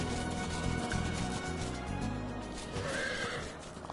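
A horse mount in the video game Final Fantasy XIV neighs and whinnies loudly and up close, with clip-clop hoofbeats over the game's background sound, lasting about four seconds.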